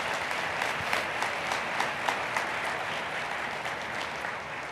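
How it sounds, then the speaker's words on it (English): A large audience gives sustained, even applause for a Symphonic Winds band at a ceremony, a thick steady wash of clapping with no talk over it. "One more round of applause for the Symphonic Winds."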